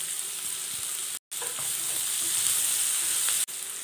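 Sliced onion and green chillies stirred in a frying pan for Kerala-style tender jackfruit stir-fry, a loud continuous sizzle with stirring scrapes, briefly cut out twice, no talking.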